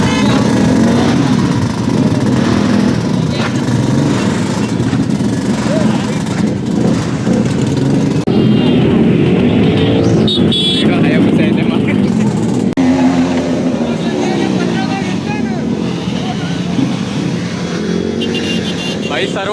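Yamaha RX 100 two-stroke motorcycles idling and revving together at a flag-hoisting gathering before an Independence Day group ride, a steady loud engine drone throughout with voices talking over it.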